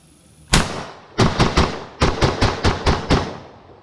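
Rapid rounds from an SKS rifle converted with a FAB Defense kit, one sharp shot followed after a pause by a string of eight loud, evenly spaced cracks with short echoing tails.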